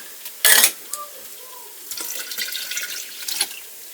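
Cold water from the refrigerator is poured in a kitchen, a brief sharp clink followed by a soft, steady close pour with light liquid splashing.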